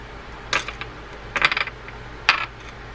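A small bearing washer placed on a Shimano Calcutta TE400 fishing reel, three brief clusters of tiny metallic clinks and rattles, close and crisp, with quiet gaps between them.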